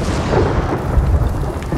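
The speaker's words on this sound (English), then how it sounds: "So that's heavenly strike. You cast thunder on your enemies." A rumbling thunder blast from the Heavenly Strike move in Ghost of Tsushima rolls low and steady for a moment, loud and dense with no talking over it.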